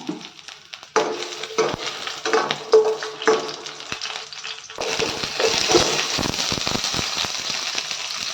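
Garlic drops into hot oil in a pan for mint chutney and crackles loudly, with scraping stirs and a denser, steady sizzle taking over midway.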